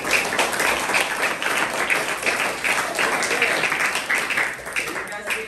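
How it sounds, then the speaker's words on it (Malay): A group of students at a school co-curricular session on funeral prayer claps together in a dense, sustained round of applause, with talking mixed in. "beri tepukan untuk diri awak semua"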